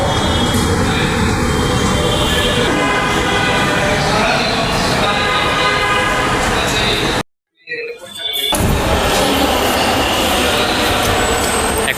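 A metro train rumbles loudly and continuously at a metro rail station on Shahbag road, with people talking over the noise and a brief sudden drop to near silence midway.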